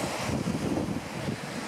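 Steady wind buffeting the microphone on an Estonian beach at Alliklepa village, Padise, with a low rumble of surf beneath; continuous and fairly loud throughout, no voices.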